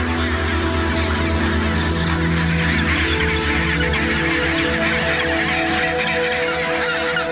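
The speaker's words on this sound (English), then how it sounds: "Penguins return year after year to the same beach from which they hatched." Antarctic penguins calling at the breeding beach where they hatched, a loud, dense chorus of overlapping honking, braying calls running without pause, with no speech.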